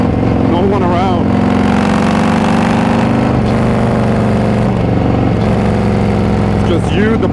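A motorcycle engine hums steadily on a winter road ride, with a constant low drone, wind noise over it and shifting revs, close to the mic, under a rider's talk.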